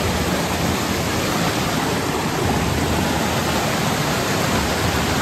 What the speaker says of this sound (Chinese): 大瀑布